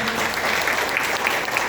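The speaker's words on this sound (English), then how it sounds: "a round of applause." Sustained audience applause at an indoor Shivratri gathering, dense steady clapping from a large crowd with no pauses.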